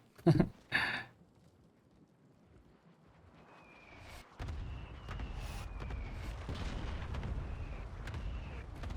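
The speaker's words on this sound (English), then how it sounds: "I'm gonna laugh when the mortar kills me." Mortar rounds strike in a first-person shooter video game: two heavy, close booming impacts burst out at the start, then give way to a steady rumble of battlefield noise with faint distant shots and whistles.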